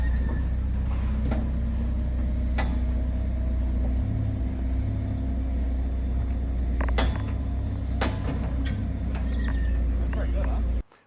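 Jeep driving on a road while towing a Japa 315 log processor: a steady loud low rumble of engine and road noise throughout, close, with occasional knocks and rattles and talk over it.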